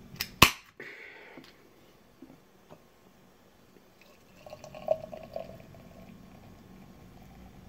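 A can of Yuengling Traditional Lager cracks open with a sharp snap, then the beer pours into a glass with quiet gurgling and fizzy carbonation, all faint and without talk.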